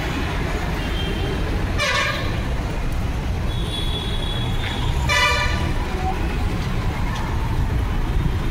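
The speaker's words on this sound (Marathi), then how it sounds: "आपला टेम्पो येतोय मागे" A tempo goods vehicle comes up from behind with two short horn toots over a steady, loud rumble of road traffic and engine noise.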